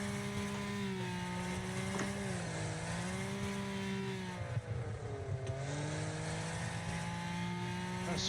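A car engine in the Wreckfest racing game held near redline, droning steadily with a nearly constant pitch that dips and recovers slightly as gears change, loud and continuous with no talk.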